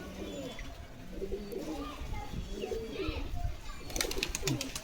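A Kaldam pigeon at a pigeon sale coos softly in a cluttered setting, low repeated calls mixed with other birds and background murmur, with someone talking nearby.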